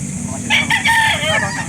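A rooster crows once at a chicken market in Barangay Dayap, Calauan, Laguna, a loud close call lasting about a second over a low murmur of background noise and other birds.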